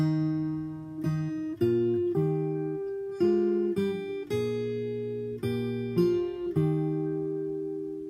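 Fingerpicked acoustic guitar plays "When I Survey the Wondrous Cross": a low bass line under a higher melody picked with the middle finger, notes plucked together in an unhurried, steady rhythm. Close and fairly quiet, no voices.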